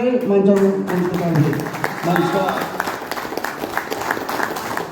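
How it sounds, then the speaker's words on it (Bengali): An audience applauds at an award ceremony during a company team trip, the clapping rising after a loud voice on a microphone, then continuing as a dense patter of many hands, moderately loud and slightly distant. "সবাই করতালি দিয়ে"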